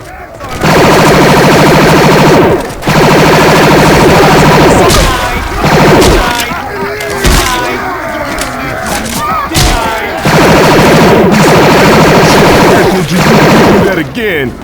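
Dense, loud automatic gunfire from the zombie shooter game Left 4 Dead 2 in sustained bursts, broken by brief gaps with impacts and thuds.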